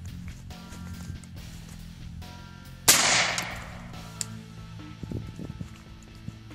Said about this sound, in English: Now we're going to use the AR-10 308, see if it'll penetrate the level 3.